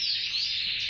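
Canaries at a bird-breeding farm sing in a brief, steady burst of high, bright warbling, close and continuous, with no voices present.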